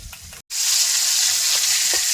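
Fish sizzles steadily in hot oil in a village kitchen, a loud continuous frying hiss that briefly cuts out near the start and then resumes without a break, with no talking over it.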